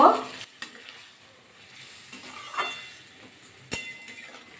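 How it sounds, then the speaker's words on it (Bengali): Flat beans and potatoes with a little added water are stirred in a pan for a spicy Bengali dish, a soft sizzle broken by a few sharp scrapes and knocks of the utensil, close by. "আবার একটু নাড়াচাড়া করে নেব।"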